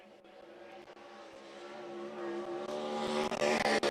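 A 410 sprint car heads out onto the track to qualify, its engine a loud, steady roar that builds in intensity toward the end as it accelerates, with no talk over it.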